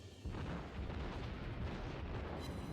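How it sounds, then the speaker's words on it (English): Naval gunfire and explosions from a 120 gun on the Yubari Tier 4 light cruiser in World of Warships, a dense, continuous rumble of booms and blasts at a steady loudness for the whole stretch. "And we're still firing at him with that 120 gun."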